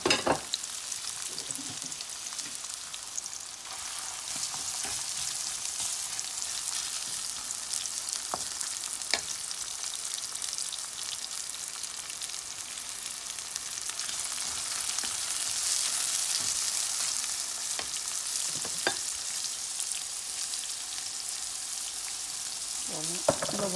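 Onions dropped into hot oil for a mixed vegetable curry give a constant, fairly loud frying hiss that lasts the whole stretch. A few faint clicks of utensils break through it, and no voices are heard.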